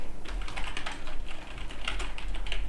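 Someone types steadily on a computer keyboard while entering a database query, producing a fast, close run of light key clicks with no voices.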